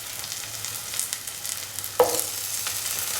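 Shallots sauté in a pan with a steady close sizzle and occasional stirring scrapes, one sharper clatter midway, no voices.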